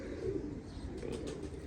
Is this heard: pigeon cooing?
yes